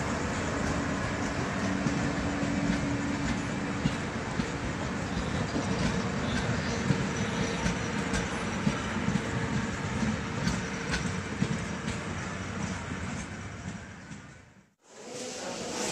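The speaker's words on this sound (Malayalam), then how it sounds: "ട്രെയിൻ തിരിച്ചു പോവുകയാണ്." A train pulls away from Byndoor railway station with a steady, fairly faint rumble and rattle that runs throughout, ending with a brief drop in sound.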